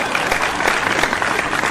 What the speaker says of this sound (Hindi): तालियां आपकी कमजोर है